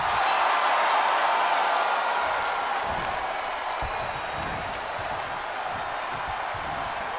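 A WWE 2K22 wrestling arena crowd cheers and applauds, a broad, continuous roar of distant clapping and crowd noise that eases slightly after the first seconds.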